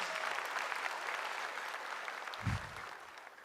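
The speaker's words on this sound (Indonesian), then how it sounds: "Respect, tepuk tangan dulu buat dia dong." A studio audience at a stand-up comedy competition applauds in a steady, dense burst that carries from start to finish.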